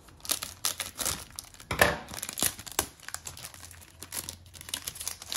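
Scissors cutting open the crinkly plastic packaging of a Flying Tiger unicorn patchwork kit, with close, irregular crackling, rustling and snipping sounds throughout.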